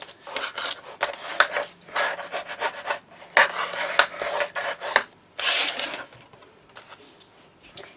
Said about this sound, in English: So score at 1/4 of an inch. And then fold and burnish down.